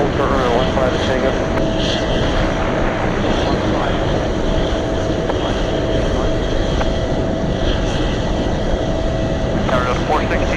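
A Delta Boeing 767 heavy airliner on approach to land on runway 15 at Anchorage in gusty winds gives a loud, steady engine roar that fills the whole stretch, with radio voices over it.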